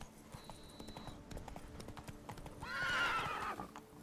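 Geralt's horse Roach galloping in Witcher 3, a quick run of hoofbeats capped by a loud whinny near the end, close and clear over soft game ambience.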